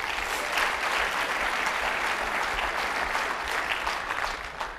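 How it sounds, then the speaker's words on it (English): Audience at a leadership event giving themselves a big round of applause, a full, steady wash of clapping from a large crowd that holds strong and begins to thin at the very end. "please give yourselves a huge round of applause"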